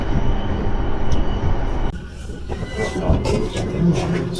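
Train pulling into Nishikawa-guchi station in Japan, a steady rumbling rail-car drone that shifts and quiets partway through, with rolling wheel noise and faint squeaks, with no one speaking.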